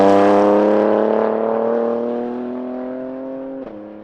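A BMW G87 M2 fitted with an Eisenmann Race full exhaust holds a loud, harmonic-rich rev that gradually winds down over a few seconds, ending with a brief pop as the engine settles.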